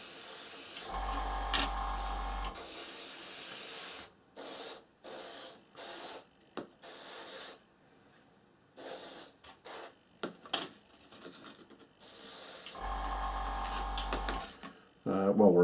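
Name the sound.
spray painting a plastic model kit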